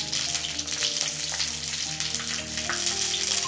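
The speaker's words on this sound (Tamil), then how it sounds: "இப்போ அப்படியே பரட்டி எல்லா பக்கமும் ஃப்ரை பண்ணலாம்." Peanut-stuffed capsicum fries in a pan over medium flame, a steady close sizzle with small crackles and pops, no voices.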